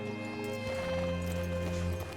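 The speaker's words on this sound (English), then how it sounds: "Hitch your horse up here." Horse hooves clop in a brief burst alongside a whinny in Red Dead Redemption 2, close and clear over low game ambience.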